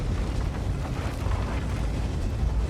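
Artillery shell explosion in a tank video game, a dense, sustained low rumbling boom that fills the whole stretch at steady loudness, with no talk over it.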